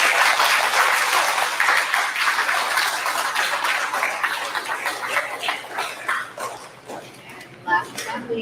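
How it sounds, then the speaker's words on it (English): Audience applause at a fifth grade school awards assembly, loud and broad at first, then thinning and fading toward the end with scattered claps and a few voices and small noises breaking through. "Let's give Mr. Gonzalez's class a round of applause."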